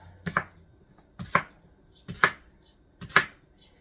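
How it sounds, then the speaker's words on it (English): A knife chops cucumber into chunks on a board, four crisp, evenly spaced cuts ringing out close and clear with brief pauses between them. "So now we're just going to chop that into chunks too"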